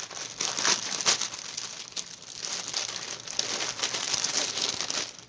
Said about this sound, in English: Put the bag over there so it doesn't crinkle.